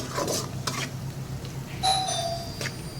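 A doorbell rings once in a home kitchen as someone arrives, a bright two-tone chime rising over a low steady hum and faint sizzling from cooking on the stove.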